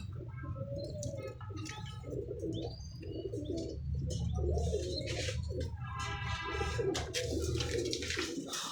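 English pigeons cooing in a loft, with repeated soft, rolling coos layered over one another and occasional chirps, steady and close throughout.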